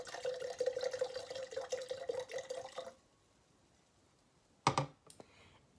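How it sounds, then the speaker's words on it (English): Wine pours from a freshly uncorked bottle into a glass as a gurgling stream whose pitch climbs for about three seconds. Then it goes quiet, and a couple of sharp clinks follow. "Pouring your wine."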